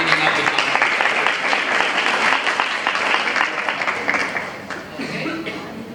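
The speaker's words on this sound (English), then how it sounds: "please give a round of applause for our teams that will be leading up the conference" Audience at a Model United Nations conference applauds the leading teams, a dense steady clapping from a large room that gradually thins and softens toward the end.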